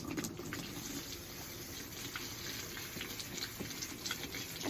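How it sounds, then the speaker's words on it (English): Water runs steadily through aquarium pebbles held in a strainer, a continuous close splashing and trickling rush with faint clicks of stones shifting, no one speaking. "I'm just gonna rinse it like that and kind of rotate the pebbles so I get the ones up that are on the bottom"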